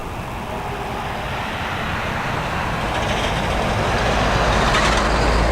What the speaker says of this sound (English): Here we go, it's A320neo coming in from London Heathrow.